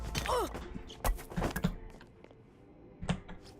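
A door thuds shut inside a stealth video game's Italian coastal town level, a solid thunk followed by softer knocks and faint mechanical clicks with quiet background ambience.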